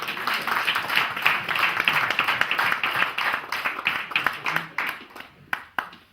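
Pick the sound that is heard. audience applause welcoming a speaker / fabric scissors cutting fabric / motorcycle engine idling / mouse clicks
audience applause welcoming a speaker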